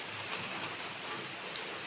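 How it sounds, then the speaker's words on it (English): Slow Sunday rain falls steadily after a long dry spell, a dense, even hiss of drops that stays constant and fairly quiet, with no voices. "And this one is a slow rain."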